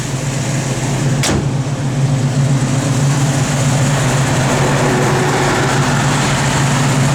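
A 1969 Chevrolet Camaro SS small-block V8 idles steadily nearby, a continuous loud low rumble with one brief sharp click early on and no speech.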